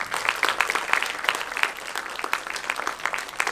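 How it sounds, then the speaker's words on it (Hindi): An audience at a ceremony honouring meritorious board students breaks into loud, sustained clapping, a thick even wash of many hands with no speech over it. "उनके लिए एक बार जोरदार ताली।"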